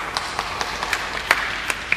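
An audience at a Christian sermon in Goa claps sparsely, scattered individual hand claps popping at irregular intervals over a steady room hiss, fairly close and moderate in level.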